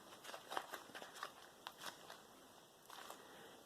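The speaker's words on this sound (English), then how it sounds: "now, because it's quite soft, I'm going to start crumpling it" Soft, kneaded Japanese momigami paper is crumpled by hand, giving faint, close crinkling and rustling bursts in an irregular rhythm with brief pauses.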